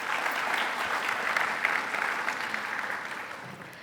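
An audience at a Bharatanatyam recital applauds as the mridangam accompanist is introduced, a thick continuous wash of clapping from a crowded hall, steady and fairly loud throughout.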